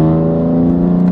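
A BMW G80 M3 under hard acceleration, its engine roaring loud and close with a strong steady harmonic drone that climbs through a quick gear shift.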